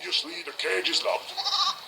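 A goat gives a few short, nasal bleats in quick succession, close and fairly loud, with a voice talking over them.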